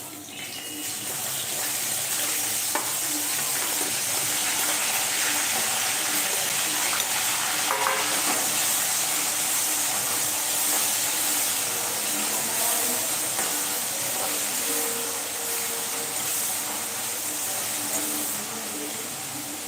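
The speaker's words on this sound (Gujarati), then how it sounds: "બે મીડિયમ સાઇઝની ડુંગળી લીધી છે મેં એને પણ આપણે તેલમાં શેકી લેશું" Two medium onions frying in oil in a pan over a lowered gas flame for matar paneer: a steady, close, hissing sizzle that continues without a break and has no talk over it.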